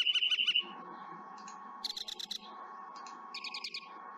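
Recorded bird songs and calls: bursts of rapid, high chirping trills repeat several times over a steady whistled tone, fairly clear and close with no talking.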